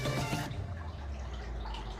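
A Jebao SCP-150 gyre pump drives aquarium water at full blast, a steady close wash of churning water, with a brief louder splash at the start that settles into a continuous rushing flow.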